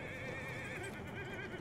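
A horse whinnies in the Battlefield 1 battlefield, a steady wavering neigh that holds loud and close for its short length over a busy rumbling game background.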